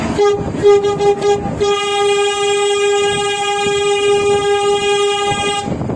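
A train horn blares in a long sustained tone after a few short blasts, with rumbling rail noise underneath, close and loud, as the train enters Veresk station near the Veresk Bridge in Iran.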